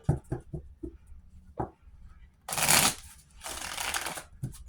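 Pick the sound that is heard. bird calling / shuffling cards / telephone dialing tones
shuffling cards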